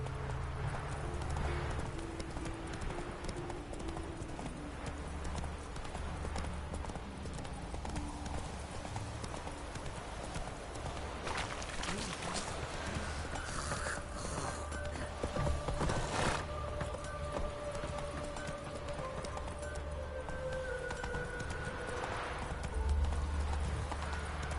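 Horse hooves galloping in The Witcher 3 video game, a steady rapid clip-clop that runs continuously at close range along with occasional whinnies, set over a constant bed of ambient game background sound.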